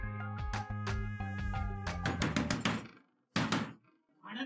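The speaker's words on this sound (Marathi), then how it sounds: "आनंदी, दरवाजा खोल." Sharp knocks on a door in a Marathi TV serial scene, a quick series of crisp raps, then a short pause and another burst of knocking.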